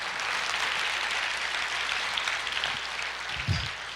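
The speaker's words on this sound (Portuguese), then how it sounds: "Você pode aplaudir o Senhor?" Congregation applauding during a Portuguese-language church sermon, a moderate, even patter of many hands clapping throughout, with a brief low thump near the end.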